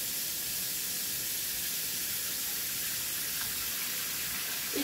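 Water runs steadily from a kitchen tap in a home kitchen, a constant soft hiss and spray that holds at an even level throughout with no voices.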